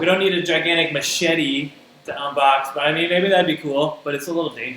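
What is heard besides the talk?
No everyday noises stand out.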